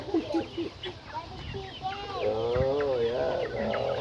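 Chickens being fed give a busy chorus of clucks and squawks close by, with one rising drawn-out call, while voices talk over the flock.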